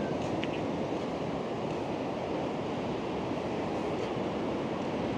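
Large ocean waves breaking on Lamane Beach, a continuous dense roar of surf with no distinct breaks, steady and fairly distant, with a light hiss of wind.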